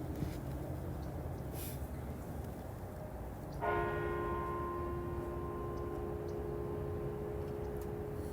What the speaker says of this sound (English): The bells will now sound one time